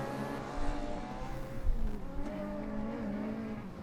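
Formula Student race car on a lap of an endurance event, its engine revving up and down at a distance, with shifting pitch as it accelerates and slows.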